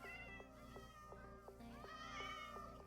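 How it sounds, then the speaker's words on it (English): Many cats meow over and over in a crowded Minecraft village, the repeated game meows overlapping steadily and fairly loud above a constant low background hum. "loud because there's lots of cat meows"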